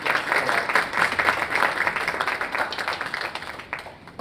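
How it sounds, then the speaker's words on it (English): An audience applauds after a lecture on antisemitism at universities, with full clapping that swells early and then gradually thins and fades toward the end. "Now another round of applause."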